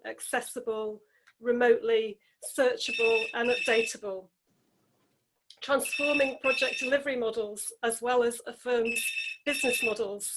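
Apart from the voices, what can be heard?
telephone ringing in the background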